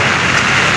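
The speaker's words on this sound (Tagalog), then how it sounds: "pauwi na tayo malakas na yung ulan." Heavy rain pours during a typhoon in Hong Kong, a loud, dense, unbroken hiss of water close by with no pauses or voices.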